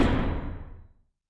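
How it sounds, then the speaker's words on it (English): A heavy door slams shut with a single loud thud close by, its low boom trailing off over about a second into silence. "I heard the door slam shut behind me"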